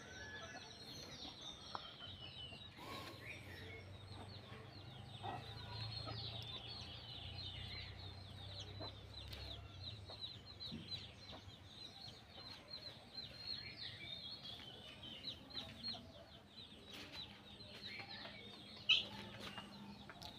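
A brooding hen clucks softly while sitting on her eggs in a backyard farm among bean vines, low steady murmuring sounds with occasional sharper bird chirps, moderately faint throughout with no talking.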